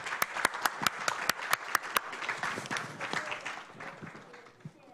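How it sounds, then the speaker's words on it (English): An audience at the 2022 TEEMA Global Networking Forum applauds four forum speakers, starting with a run of sharp, separate claps that blend into a denser smattering and then fade away. "Please join me to give a big applaud to the 4 speakers for their excellent presentations and dialogue."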